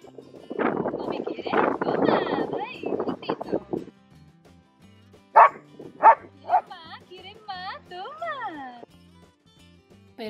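Several sharp dog barks and yips close by, a dog begging for food, following a stretch of talking, then some whining, rising vocal sounds.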